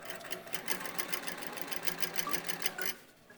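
A sewing machine runs steadily for a few seconds with a rapid, rhythmic mechanical clatter of stitching, quiet and close, then winds down near the end.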